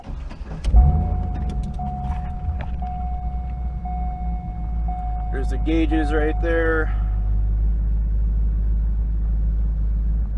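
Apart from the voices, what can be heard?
car engine running while driving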